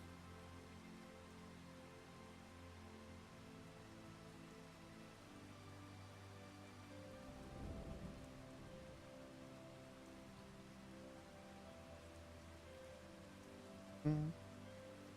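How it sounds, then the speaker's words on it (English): Steady soft rainfall patters on the ground in the Farming Simulator 25 farm world, a gentle continuous wash with low background hum and a brief louder knock near the end. "The rain sounds are very soothing."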